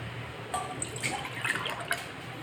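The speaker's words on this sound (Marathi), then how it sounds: "दोन ग्लास पाणी टाकणार आहे" Water pours steadily from glasses into a cooking pot of spices, turmeric, red chili powder and garam masala, for Pune-style rumal vadi: a continuous splashing fill with small drips.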